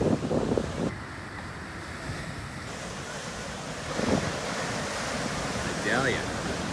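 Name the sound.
ocean waves breaking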